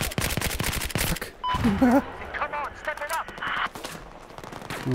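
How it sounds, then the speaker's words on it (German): Rapid bursts of automatic gunfire in the video game Battlefield 4 crackle through the opening seconds, followed by scattered game effects and beeps while someone talks over them. "Boah, ich werde beschossen"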